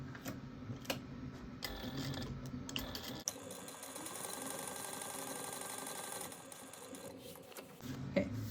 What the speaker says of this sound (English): Put the thread over, and then you're just going to sew that down.